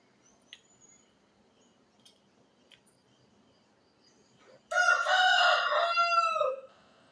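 After a few seconds of near silence with a couple of faint clicks, a nearby rooster lets out one loud, long crow that lasts about two seconds and then stops.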